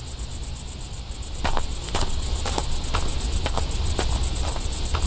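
Crickets chirp steadily in a night forest in an indie horror video game, a high, continuous pulsing trill with faint soft clicks and patter beneath it, alone and without talk.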